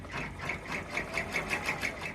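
A sewing machine stitches elastic onto a fabric composition book cover, its needle pulsing in a steady even rhythm, close and clear with no voices.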